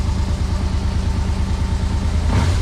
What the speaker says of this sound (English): Yeah, it's running without the choke, so that's a really good sign.